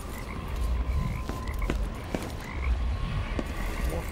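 Frogs croak in a spooky, deserted area of the video game Dishonored 2, with several short croaks scattered over a steady ambient bed and nobody talking.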